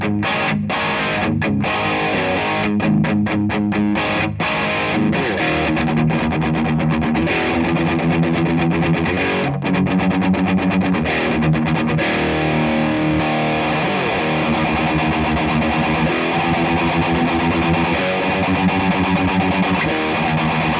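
Electric guitar played through a Rocktron Metal Planet distortion pedal, a thick high-gain distorted tone with sustained chords and chugging riffs, loud and continuous with no talking.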